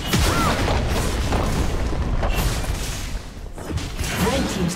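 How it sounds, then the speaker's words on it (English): A turret is destroyed in League of Legends with a loud, rumbling crash and boom amid busy mechanical battle effects and whooshes, continuous and close. "Red Team's turret has been destroyed."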